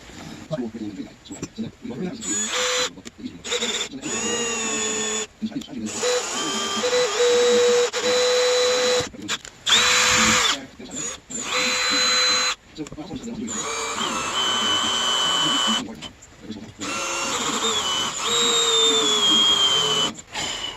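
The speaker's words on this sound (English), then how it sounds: "It's just me drilling holes." A loud, high whining power drill runs in repeated bursts of a few seconds each, with short pauses between, close by and sometimes under speech, drilling holes while working on a 2008 Chevrolet Express van.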